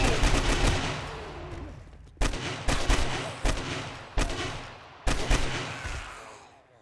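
Unsilenced gunfire from a survival zombie game sounds as loud, close shots in quick bursts: a rapid string at first, then several separated sharp reports, each with a ringing decay.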